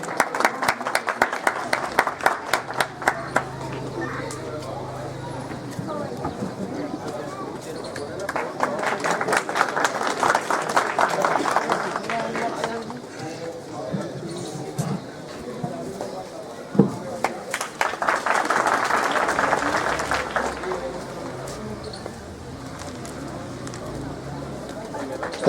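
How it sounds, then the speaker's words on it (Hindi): Applause from a crowd at a police outpost inauguration, rising in long swells of dense clapping between stretches of someone speaking over a loudspeaker, with crowd murmur throughout. "तालियां।"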